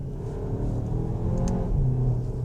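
A 2026 Volkswagen Tayron 195 TSI R-Line accelerating in sport mode, heard from inside as a steady, close engine rumble with a rising tone and no talking over it.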